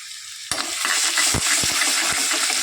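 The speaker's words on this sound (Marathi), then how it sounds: "मस्त फोडणी तयार झालेली आहे आपली" Oil bursts into a loud, steady sizzle after a brief quiet moment, with a few sharp pops and crackles as grated garlic and spices hit the hot pan.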